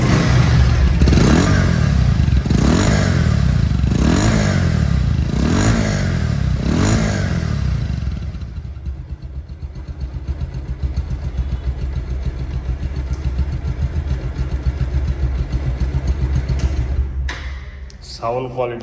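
A 2021 motorcycle in near-showroom condition revs hard in a series of rising and falling bursts, then settles into a steady, loud running idle close by.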